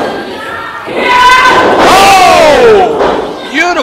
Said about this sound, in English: Beautiful flying shoulder tackle off the ropes.